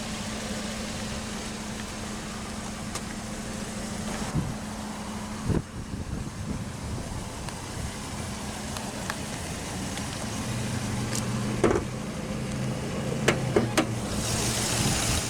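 A well-preserved 2005 Hyundai Accent with a 1.6-liter naturally aspirated inline-4 idles steadily, a low continuous hum with faint mechanical ticking and a few small bumps, heard alone without talk.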